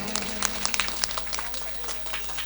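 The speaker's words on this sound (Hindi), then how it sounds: "जोरदार ताली मैया के लिए बजाएं एक बार आप।" An audience at a bhajan evening applauds, scattered claps in a quick irregular patter under a low hum, fading out over a couple of seconds.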